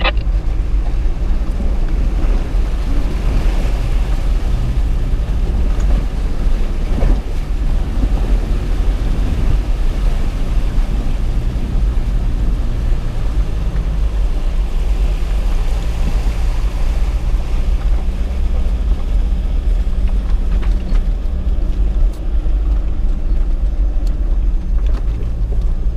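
A 4WD vehicle crawls slowly through the Macalister River crossing, giving a continuous low rumble with broadband wash and wind-like noise throughout and no clear breaks.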